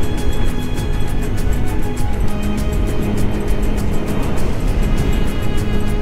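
A long queue of road traffic in Mempawah, cars and motorbikes idling and creeping along, a loud continuous engine drone with a steady buzzing pulse.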